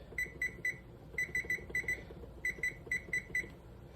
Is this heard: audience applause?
no